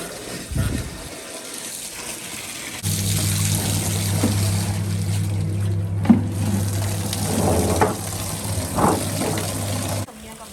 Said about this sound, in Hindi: तो यहाँ पर बस हम इसे पानी में से बार बार निकाल रहे हैं ताकि सारा सर्फ अच्छे तरीके से निकल जाए